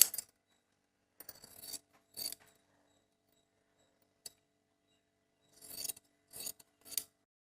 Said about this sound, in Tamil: நம்ம இதை ஸ்ட்ரைட் பண்ணி கட் பண்ணிடலாம்.